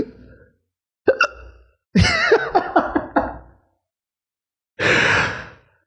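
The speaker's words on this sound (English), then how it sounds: "I got the hiccups" A person's hiccups, sharp sudden catches of breath in a short uneven series, interspersed with sighing breaths and a long exhale, close and fairly loud with no words spoken.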